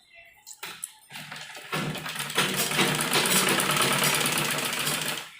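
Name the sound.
sewing machine stitching cloth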